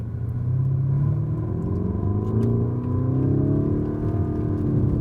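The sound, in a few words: Lamborghini Urus 2019 engine revving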